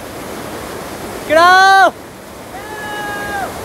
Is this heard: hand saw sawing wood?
no